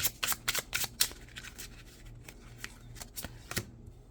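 A deck of tarot cards is shuffled and drawn close up, giving a run of crisp riffling snaps and flicks in quick bursts, then sparser card slaps, with no talk.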